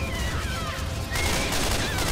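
Gunfire from the Left 4 Dead 2 video game as players shoot at a zombie, a dense rapid fusillade of shots that grows louder and busier halfway through, close and continuous.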